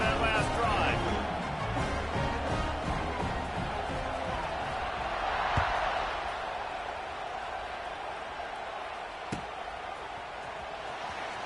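Stadium crowd in a football video game roars steadily in the background during a kickoff, a broad wash of cheering under continuous play-by-play commentary, with a couple of sharp thuds.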